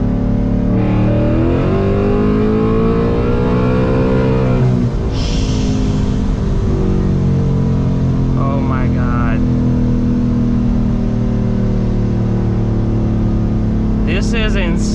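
An 800 hp ESS supercharged S650 Ford Mustang GT pulls hard under acceleration, its loud engine note rising and holding steady from inside the cabin, with a brief exclamation from an occupant.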